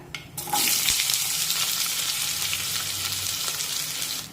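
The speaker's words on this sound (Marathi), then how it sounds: "आता कांदा छानपैकी परतून घेऊया" Thinly sliced onions hit hot oil with cumin and burst into a loud, steady sizzle that continues evenly, with a few stirring scrapes and no talk.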